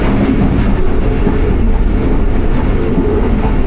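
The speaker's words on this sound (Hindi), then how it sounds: "12:50 और सुखेखी रेलवे स्टेशन से ट्रेन हमारी पास हो रही है।" The Rehman Baba Express train passes through Sukheki railway station on the Shorkot–Khanewal branch line, a loud, continuous rumble and rattle of rolling wagons close by with no voices.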